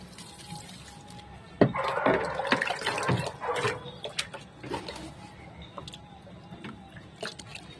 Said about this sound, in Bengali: আমি জল নিয়ে এসেছি, গাছগুলোতে জল দিয়ে দেবো সব।